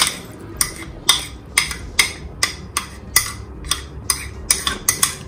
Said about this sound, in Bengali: এগুলো আমরা বাংলা স্টাইলে হাত দিয়ে পুরা ভালো মতো মাখায় ফেলবো মাখাচ্ছি ভালো মতো